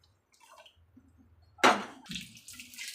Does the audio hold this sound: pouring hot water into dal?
yes